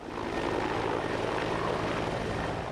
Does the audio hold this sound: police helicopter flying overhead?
yes